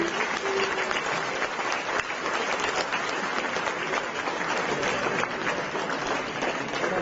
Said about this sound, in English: A big round of applause, rather a standing ovation for this gentleman.